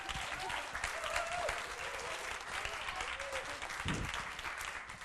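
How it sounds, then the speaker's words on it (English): A university audience gives a professor a long round of applause at a 2012 final course presentation, dense, steady clapping throughout with a voice faintly audible over it. "let's welcome Professor Wang with a big applause."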